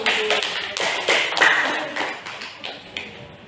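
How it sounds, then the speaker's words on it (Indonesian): Students in a classroom clap in a short burst of applause, the claps distinct and close, tapering off gradually over a few seconds. "tepuk tangan untuk"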